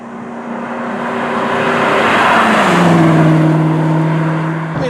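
A Ford GT sports car accelerates, its engine note rising smoothly in pitch and swelling in loudness before easing off, heard close and alone without talk.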